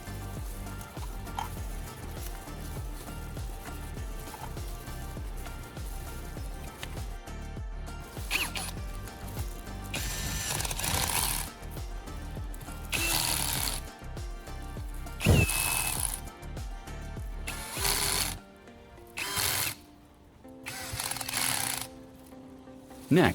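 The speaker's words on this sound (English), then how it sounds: "I'll replace the caps and use the drill to tighten them securely" A power drill tightens the caps on a battery's cells, with bursts of whirring and ratcheting separated by brief pauses and handling noise, close and fairly loud, no talk.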